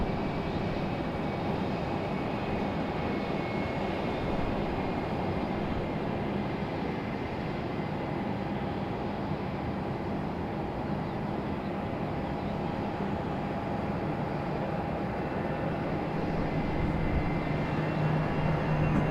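Airbus A321 in Stand Up To Cancer livery moving at Raleigh-Durham airport at sunrise, a steady, even jet engine rumble and whine that holds at moderate distance throughout, with no voices.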